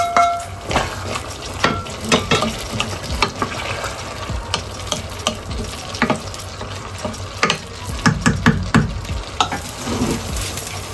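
Vegetables for menestra de verduras sautéing in a pan, a steady loud sizzle broken by frequent clacks and scrapes of a utensil stirring against the pan, no talking.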